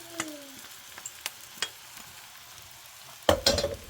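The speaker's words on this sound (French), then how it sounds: "On va verser nos nouilles." Stir-fried beef noodles with carrots cook in a pan: quiet scattered clicks and scrapes of stirring, then a louder sizzling burst near the end as the noodles are poured in, no talking.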